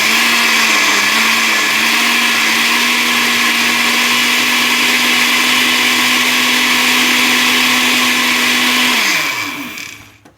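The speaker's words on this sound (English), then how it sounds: "we're going to blend for 10 seconds" A blender runs loud and steady at close range, whirring through flan ingredients with vanilla extract for about nine seconds before winding down and stopping.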